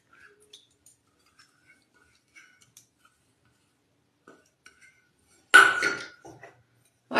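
Soaked semolina tipped into a bowl for bhatura dough: faint scattered ticks, then one short, close clatter with a soft wet slap as it lands, no voices.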